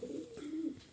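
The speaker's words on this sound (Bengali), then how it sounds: "এই পায়রাটা মোটামুটি 7 মাস আগে হারিয়ে গেছিল" A homing pigeon that had been lost for about seven months coos in a low, rounded murmur, one steady phrase rising and falling close by, with nothing else around it.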